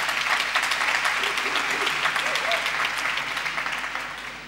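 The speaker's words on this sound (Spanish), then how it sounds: "Muy fuerte el aplauso." Audience at a science blog award ceremony gives steady, moderately loud applause for a nominee, a dense clapping wash that slowly fades toward the end.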